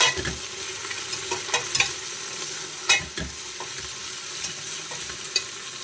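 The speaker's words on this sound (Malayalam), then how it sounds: "ഒരു 5 സവാള കനം കുറച്ചിട്ട് ചെറുതായിട്ട് മുറിച്ചെടുത്തതാണ് അത് ചേർത്ത് കൊടുക്കാം. നന്നായിട്ടൊന്ന് വഴറ്റിയെടുക്കാം." Five thinly sliced onions sautéing in a pan for mutton biryani, a steady sizzle with intermittent scraping and tapping from stirring, nearby and with no voices.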